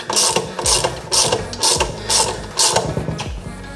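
A ratchet tightens the brake rotor bolts on a dirt bike during an oversize 280mm rotor and bracket install, giving six quick, close, loud rounds of clicking with short pauses between strokes.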